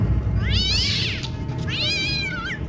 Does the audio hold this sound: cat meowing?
yes